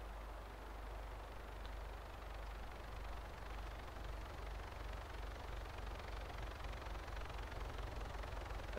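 A helicopter in a military video game drones steadily with a low rotor throb and engine hum, continuous and fairly faint throughout, with no speech.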